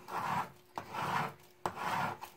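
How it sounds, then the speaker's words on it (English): Transfer tape rubbed down firmly in three long strokes, a close rasping scrape with sharp taps between the strokes, quiet and alone. "Give that a good rub."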